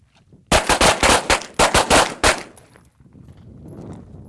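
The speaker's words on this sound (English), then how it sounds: "On the up command, you're going to draw and fire." Pistol shots fired in quick succession during a junior training drill, about eight sharp loud cracks in close, uneven bursts, then a quiet outdoor tail with faint background.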